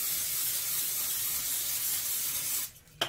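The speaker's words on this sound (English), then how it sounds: "I just have some olive oil spray. I'm going to spray in here." A continuous hissing spray from an olive oil aerosol can for a few seconds, then it stops with a soft click.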